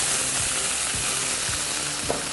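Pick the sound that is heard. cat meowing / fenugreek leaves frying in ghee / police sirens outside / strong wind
fenugreek leaves frying in ghee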